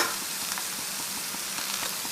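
Chopped ginger and curry leaves fry in hot oil in a pan, a steady close sizzle broken by soft scraping taps of stirring, with no voices.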